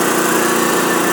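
A Pinto engine in a classic hot rod runs at a steady, buzzy idle, close and loud for a brief moment with no other sounds.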